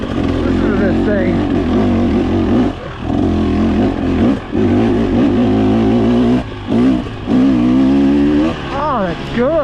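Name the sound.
2023 300 motorcycle engine revving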